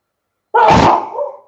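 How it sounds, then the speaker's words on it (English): A single sharp sneeze bursts out close by, with a short trailing exhale and silence before it. "I'm going to sneeze."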